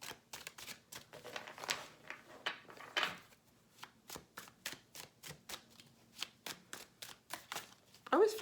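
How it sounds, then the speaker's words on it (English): Tarot cards being shuffled by hand, a long run of crisp, rapid riffling bursts and soft taps in an irregular rhythm, close and clear with a short spoken moment near the end. "I always feel like Scorpio spends a lot of time watching me shuffle."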